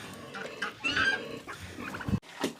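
Turkeys gobbling and chickens clucking together on a small village farm while feeding, a close, busy mix of repeated bird calls.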